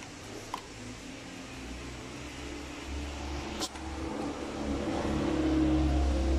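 Car engine idles steadily during EGR valve and engine interior cleaning, a continuous low hum that grows slightly louder toward the end, with a couple of brief clicks.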